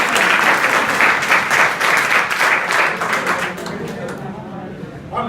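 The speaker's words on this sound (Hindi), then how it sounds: "इनके लिए तो ताली बजाओ पहले जो मम्मी को।" Students at an adolescence education session at an inter college clap together in sustained, dense applause that fills the room, tapering off slightly toward the end with a brief burst just before it stops.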